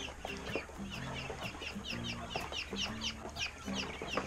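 Chickens cluck in a farmyard as grain is tossed back to them, a dense overlapping chorus of short clucks from several birds close by, with no talk.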